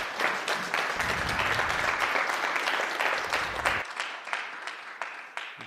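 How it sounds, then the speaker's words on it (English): Audience applause after a conference talk at SCaLE 21x, a dense steady clapping that fills a ballroom for several seconds, then thins and tapers as the clapping dies out. "let's have a round of applause"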